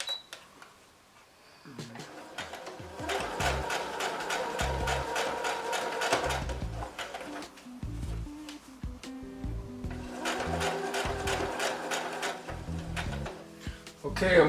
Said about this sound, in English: I'll go ahead and just sew over that